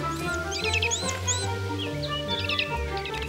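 Hungry thrush nestlings in a Central European spring woodland give thin, high begging chirps in repeated bursts, heard fairly close over a steady low background hum.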